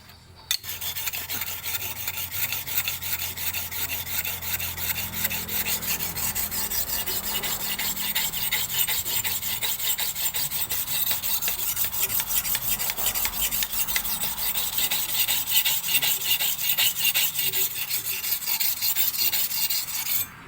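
A metal file rasps continuously against a rubber tapping knife with a broken spur as it is reshaped; the strokes are steady, close and fairly loud for about twenty seconds, with no voices.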